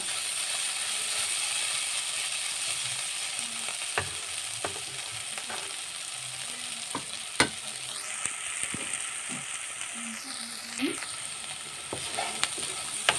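A steady frying sizzle of samosa filling fills the background while a utensil scrapes and taps against a pan in irregular strokes, with no voices present.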